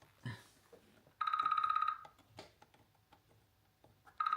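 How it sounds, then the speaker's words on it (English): A telephone rings with a steady electronic trill, one full ring followed by a pause and the start of another, over faint handling noises. "Oh, phone's ringing again."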